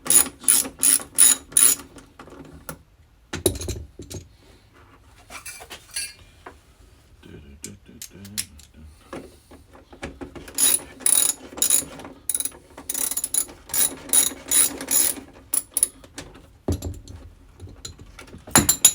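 Rapid ratchet clicking while bolts come off a Honda Big Red three-wheeler in a workshop: close, bright bursts of ratcheting strokes come in uneven runs with quieter gaps, alongside metal clinks and handling noise.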